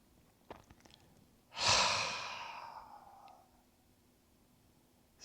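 A person takes a slow breath in through the nose and lets out a long, soft sigh through the mouth; the exhale swells, then fades away in a quiet room.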